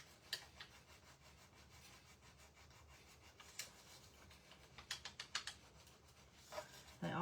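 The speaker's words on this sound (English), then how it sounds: "these tools are also available from Essential Stencil to burnish your transfers down" A burnishing tool rubbing a stencil transfer down onto a surface, faint close scratchy strokes in short bursts and clusters, quiet and without talk.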